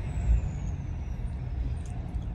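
A car-carrier truck rolls by with a low, rumbling engine drone and a thin, faint high hiss like an air brake release, heard at moderate distance without voices.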